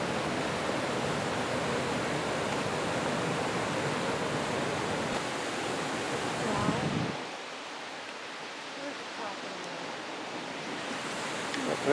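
A small waterfall only two or three feet high in Bankhead National Forest gives a steady, broad rushing wash of water. The rush cuts off sharply partway through, leaving a quieter, thinner stream of water noise for the rest.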